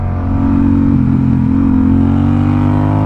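A Honda Rebel 1100 motorcycle pulls hard under acceleration, its engine giving a loud, steady, close-up drone with strong low harmonics and no breaks or voices over roughly three seconds.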